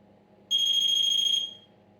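A handheld ghost-hunting device sounds one steady, piercing electronic beep lasting about a second, close and clear over a low background murmur.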